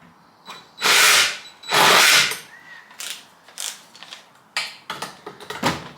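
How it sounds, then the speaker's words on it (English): A drill cranks over a seized chainsaw engine, giving two long, loud grinding whirs, then a string of shorter ratcheting bursts against heavy compression, close up with no talking. "We're gonna try to crank this over with the drill."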